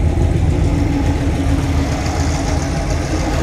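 A 1986 Pontiac Trans Am with an LQ4 V8 swap idles through a free-flowing MagnaFlow exhaust, a steady, loud, close low thumping rumble with no break and no voices.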